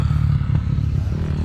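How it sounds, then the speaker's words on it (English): Motocross bikes riding nearby at a campsite, a steady low engine drone with faint clatter, continuous and moderately loud, with no talking. "There's people on motocross bikes here."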